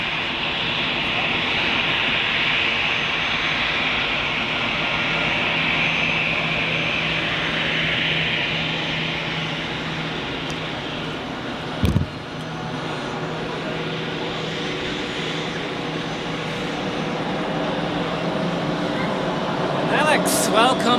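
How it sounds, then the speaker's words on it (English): Heavy airliner departing Zurich Airport, a loud sustained jet roar with a bright hissing upper band, fading slowly, broken by one sharp knock midway; a voice talks over it. "That was a very, very heavy departure."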